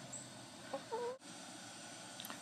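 A chicken gives a brief, faint cluck or two against quiet outdoor background noise, with no speech.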